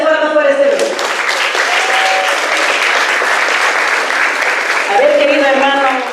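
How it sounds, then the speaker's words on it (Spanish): Steady audience applause for a Peruvian band, a dense wash of clapping lasting several seconds, with brass-like tones briefly audible at the start and end beneath it. "Fuerte las palmas para este grupo."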